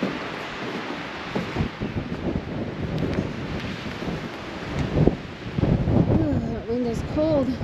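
Cold wind gusting across an open hilltop cemetery grounds, a steady broadband rush with louder buffeting bursts against the microphone, while a person speaks briefly underneath.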